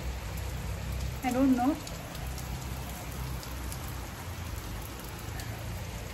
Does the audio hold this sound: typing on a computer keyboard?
no